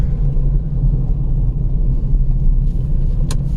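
A car rumbles past on a night drive through Pilibhit Tiger Reserve, a steady, close, low road roar that holds throughout, with a brief sharp noise near the end.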